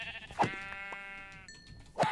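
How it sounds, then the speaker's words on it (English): A Minecraft sheep bleats in a survival game: two short, nasal, wavering bleats about a second and a half apart, clear and close, with a brief higher tone between them. "Oh, there's a sheep."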